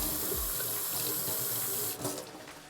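Water runs steadily from a kitchen tap into a sink while Italian poached meatballs are being cooked, a close, continuous hiss that shifts and eases near the end as the flow changes.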